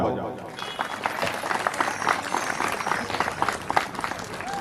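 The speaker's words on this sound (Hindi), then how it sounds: "चलिए एक बार जोरदार ताली बजा दीजिए" An audience at a devotional Manas recitation program in Chhattisgarh claps in a dense, lively burst, with voices mixed into the applause for a few seconds.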